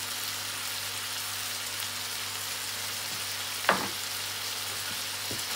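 Food frying in a pan with ginger and black pepper gives a steady, soft sizzle throughout, broken by one brief clatter of utensil on pan.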